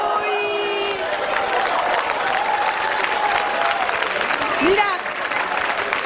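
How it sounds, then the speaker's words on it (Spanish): The men in a television game-show audience applaud loudly and steadily, a dense continuous clatter of hands with some cheering, while voices speak over it. "solo te aplaudieron los hombres"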